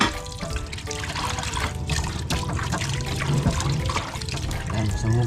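Water pours and trickles steadily while fish is washed for a tuna menudo in a home kitchen, a continuous splashing stream with some clinks of handling, with a voice talking faintly over it.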